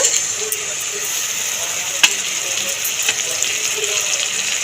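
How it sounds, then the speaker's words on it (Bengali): Water used to rinse the spice bowl is poured into turmeric and spice paste frying in a pan for a mustard-poppy fish-roe fritter curry, giving a steady watery hiss and sizzle with a few small clinks. "হলুদ আর অল্প একটুখানি মশলা ধোয়া জল প্রথমে দিয়ে দেব"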